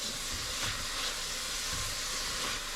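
Onions sauté in a pan for vegetarian chili, a continuous soft even sizzle with no breaks.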